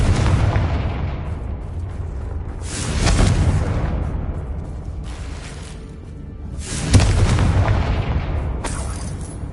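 Confringo blasting spell explosions in a Hogwarts wizarding video game, with broad booming bursts around three and seven seconds over a dense, rumbling background roar and no talk.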